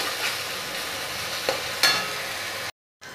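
Steady sizzling of garlic frying in hot oil, with a couple of brief stirring scrapes and a short drop-out near the end.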